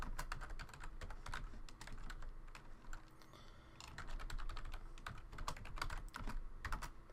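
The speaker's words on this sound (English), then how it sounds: "Now before I get into explaining it, I'll just type one out." Rapid typing of Java code on a computer keyboard, a close, steady patter of many sharp key clicks with brief pauses between bursts.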